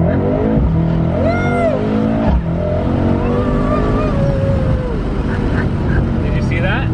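A loud Mercedes-AMG car engine roars and revs continuously, pitch rising and falling with a whining tone, while people exclaim and talk over it.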